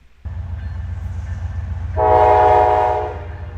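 Freight train led by a Norfolk Southern locomotive, with a steady low engine rumble followed by a loud sustained horn blast close by.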